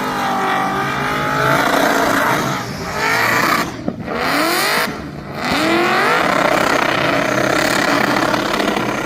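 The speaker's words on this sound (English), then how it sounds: "Revving the bejesus out of it." A race car in the Pro Class at the Wellcamp Motorfest revs hard and loud, its engine note sweeping up and down continuously, with two brief drops between bursts of throttle and no talking.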